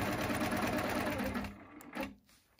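A longarm quilting machine, run through Pro Stitcher on an edge-to-edge design, stitches steadily across the quilt with a dense rapid whir for about a second and a half, then stops, leaving a brief trailing rattle.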